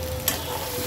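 Cabbage fries slowly in a pan over low heat, a constant close sizzle broken by a quick scrape of stirring.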